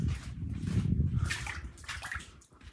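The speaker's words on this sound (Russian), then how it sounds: "Слышите, как река внизу течет?" Water runs and sloshes nearby, a river flowing below a lit walkway in Serbia, with close gurgling and splashing at moderate level.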